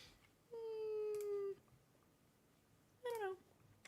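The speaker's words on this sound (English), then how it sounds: "I can hear my cat" A pet cat meows indoors, two separate calls: a long, steady drawn-out meow followed after a pause by a shorter, rising-and-falling one, fairly clear over a quiet room.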